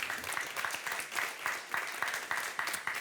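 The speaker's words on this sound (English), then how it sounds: "keep clapping, please" Audience applause at a Politico panel event on European biotech, a steady wash of many hands clapping with rhythmic swells, continuing without pause.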